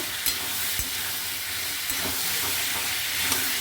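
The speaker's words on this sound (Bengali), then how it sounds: "খুব ভালো করে মশলাটা কষিয়ে নেব" Spice paste with chilli powder frying and being stirred in a pan, a steady close sizzle with occasional scraping clicks of the spoon, no voices.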